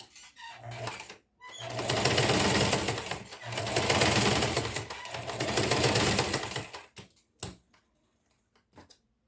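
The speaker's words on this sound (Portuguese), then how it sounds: "Eu tô costurando com linha branca aqui," A sewing machine stitches fabric lining with white thread for a school pencil case, running in three steady bursts of rapid mechanical whirring, with short pauses and a few clicks near the end.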